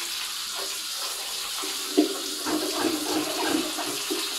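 Tap water running steadily while a fish tank is rinsed out, a continuous splashing flow with slight rises and surges, close and moderately loud without voices.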